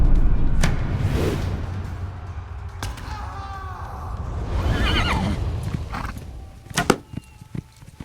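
Horses neigh and whinny in a battle cutscene from the video game Age of Empires IV, with hooves clopping and dull thuds and sharp impacts toward the end, all loud and close.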